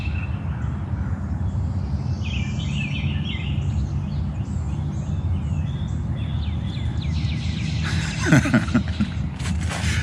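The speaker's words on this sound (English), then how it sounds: "the birds are amazing this morning. Let's just stop and listen." Morning birds chirp and twitter at a distance over a steady low background hum, with a brief louder burst of calls near the end.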